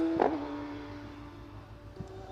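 A distant race car on a hill climb course at Doune drones faintly, a steady engine hum growing slightly as it approaches, with a couple of brief knocks nearby.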